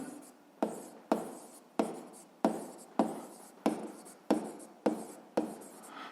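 Pen writing on paper while working a physics exercise, a regular series of about ten scratchy strokes close by, each starting sharply and trailing off, with no talk.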